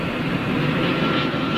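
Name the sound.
Emirates jet airliner coming in to land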